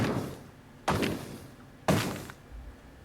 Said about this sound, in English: And here's some of the bullet impacts.